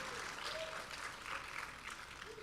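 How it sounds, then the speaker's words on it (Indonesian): A church congregation claps steadily at a Sunday service. The applause is fairly faint and distant and holds evenly for a couple of seconds, with a thin whistle-like tone drifting through it. "Kasih tepuk tangannya paling luar biasa, tepuk tangannya paling dalam"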